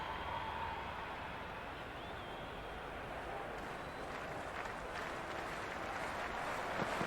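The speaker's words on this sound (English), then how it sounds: "Crowd clapping along as McSweeney readies for the next delivery." A stadium crowd claps steadily during a Cricket 26 Big Bash League match between Sydney Thunder and Brisbane Heat, forming a continuous, even wash of applause with no distinct voices.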